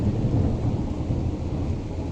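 Deep thunder rumbles continuously through heavy, steady rainfall on a stormy morning, a dense low roar with no voices.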